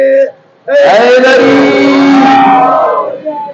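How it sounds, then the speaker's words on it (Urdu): A crowd at a religious gathering, a majlis in an imambargah, shouts a slogan in unison, a loud sustained chorus of many voices lasting about two and a half seconds after a brief lead call. "نعرے"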